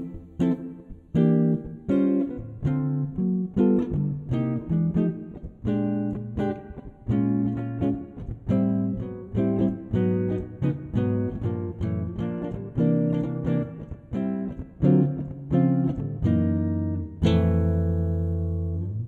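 A guitar plays through a jazz blues harmony, strumming a steady sequence of rich chords in a rhythmic comping pattern, close and clear, ending on a ringing final chord.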